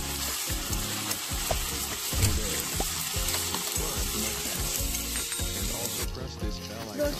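Garlic paste sizzles in hot oil in a pan while being cooked for a mutton curry, a steady close crackle broken by repeated spoon scrapes and knocks against the pan.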